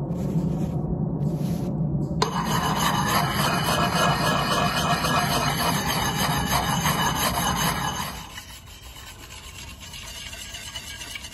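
A 1-inch Harbor Freight belt grinder runs a leather belt to hone an axe edge, a loud steady rasping whir for about eight seconds before it drops to a lower, quieter hum.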